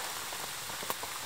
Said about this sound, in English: It's raining, raining and raining pretty hard.